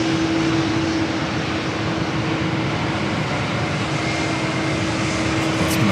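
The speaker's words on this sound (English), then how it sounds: "Up next, this is American A321." An American Airlines Airbus A321, about ten years old, taking off at an airport, giving a loud, continuous broadband jet roar with a steady low tone, sustained throughout with no talk.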